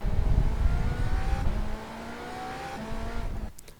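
A GTP prototype race car in iRacing at the Algarve circuit roars hard, then the engine note climbs steadily through rising revs after a gear change, loud and close with no talk over it.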